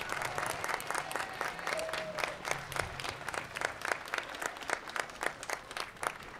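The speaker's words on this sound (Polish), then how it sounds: "brawa, brawa, tak." Rhythmic, unified clapping from an audience welcoming an Olympic silver medalist, a steady beat of claps on top of softer background applause, moderately distant and continuing throughout.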